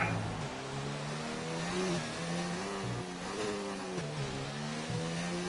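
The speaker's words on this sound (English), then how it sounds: "Pettington really working that gearbox through these sweeping left and right corners here" A Formula 2 race car engine screams at sustained high revs while the driver works the gearbox through sweeping left and right corners in Brazil, with several quick pitch drops marking gear shifts, loud and continuous under a busy broadband roar.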